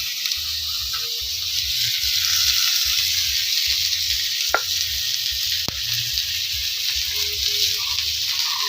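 Chopped onion with bay leaf and cumin frying in oil in a wok for an egg curry, a steady close sizzle with a few sharp spatula taps and no talking.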